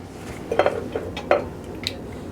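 A metal lid comes off a large pot of autumn soup, giving a few light clanks and clinks over a steady kitchen background hiss.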